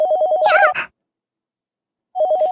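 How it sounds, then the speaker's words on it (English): A phone ringtone from a visual novel video game chimes in a steady repeating electronic pattern, briefly overlapped by a sharp whinny-like burst, then cuts to silence before the ringing resumes. "Startled by the sudden sound of the phone,"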